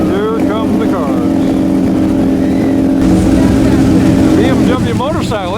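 Classic cars and a motorcycle drive past at The Quail 2016 motoring event, engines droning and revving close by, with speech audible over the vehicle noise.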